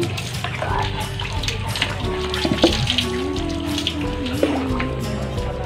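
Water is poured from a dipper to rinse a goat, splashing and trickling continuously at close range with small irregular drips and splats.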